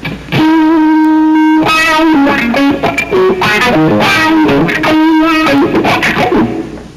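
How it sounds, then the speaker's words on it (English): Electric guitar played through an FX17 wah-wah and volume pedal plus a distortion box: loud, sustained, sweeping notes and short melodic phrases, close and continuous, with no talking. "It's a wah-wah and a volume pedal, depending upon which application you put it to."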